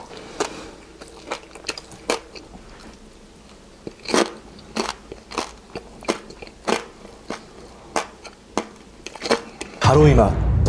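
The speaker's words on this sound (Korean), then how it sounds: "입에 넣고 씹는 이 느낌으로는 이 요리를 따라갈 것이 없습니다" Crispy roasted porchetta pork belly stuffed with parsley and garlic being bitten and chewed up close, with a run of sharp crunchy bites spaced through the stretch and a louder crackling burst near the end.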